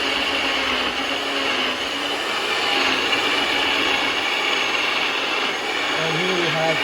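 A blender whirs steadily while pureeing sweetcorn fritter batter, a continuous close motor hum and churn with slight pitch changes as it works.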